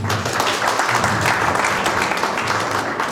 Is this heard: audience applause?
yes